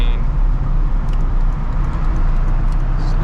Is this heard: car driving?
yes